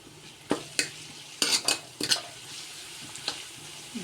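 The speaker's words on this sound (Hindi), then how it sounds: "अब इसमें मैं डाल दूँगी लहसुन अदरक, कुटा हुआ लहसुन अदरक मोटा मोटा" Crushed garlic and ginger fry for chicken salan, a soft sizzle under several sharp metal spoon scrapes and clinks against the pan, close and irregularly spaced.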